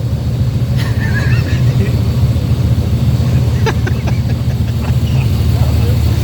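A 2014 Shelby GT500 with a TVS supercharger runs steadily on a dyno, a loud sustained engine drone with faint chirps and clatter over it.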